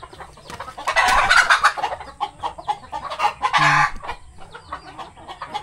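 Pet chickens clucking busily while feeding, close and lively, with a couple of louder bursts of calling among the steady clucks and no talk.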